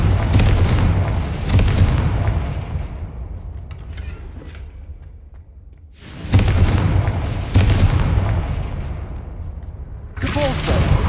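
A Confringo blasting spell goes off in Hogwarts Legacy, heard as loud booming blasts in bursts with a quieter lull between them, all set over a steady game soundscape.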